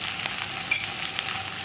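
Okra sautéing in a pan with turmeric and salt gives a steady, close sizzle with faint scraping from stirring, holding an even level throughout with no voices.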